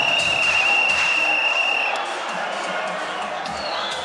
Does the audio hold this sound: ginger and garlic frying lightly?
no